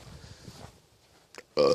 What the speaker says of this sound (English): I'm still burping from the Mountain Dew.